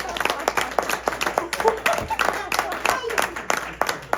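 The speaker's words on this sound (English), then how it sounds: "Give a round of applause, everybody." An audience applauds after a magic card trick, with a dense patter of clapping near and fairly loud, and voices speaking over the clapping.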